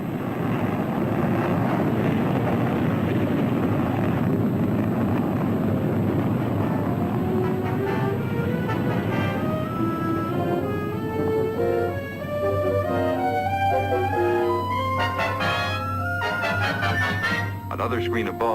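Blast-off on the Disneyland Tomorrowland moon flight ride: a loud rushing roar swells at first, then gives way to rising electronic tones and a low steady hum, with some voice present.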